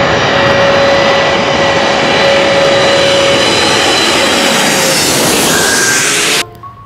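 A large aerobatic airplane roars loudly and steadily overhead, its engine drone holding strong before cutting off abruptly near the end.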